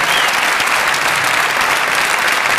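Loud, dense applause from a concert audience for a cello duo, a steady wash of clapping that holds without pause.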